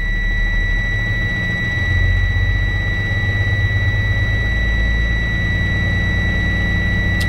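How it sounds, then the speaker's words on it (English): A manual-transmission Class A truck engine drones loud and close as it is revved to build air pressure, a steady low rumble that swells slightly partway through, with a constant high-pitched tone running on top. "I'm gonna press the fuel"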